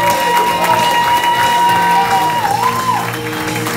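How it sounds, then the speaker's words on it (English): Audience at a comedy open mic applauding, with dense steady clapping and some cheering. A voice carries over it before the applause fades slightly toward the end. "how about an applause for him and all the open micers?"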